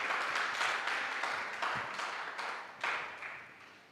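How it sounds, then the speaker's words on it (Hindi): Congregation applauding together during a Sunday church service, a sustained burst of clapping with a few louder swells, no talking over it. "ताली बजाओ यीशु की महिमा के लिए।"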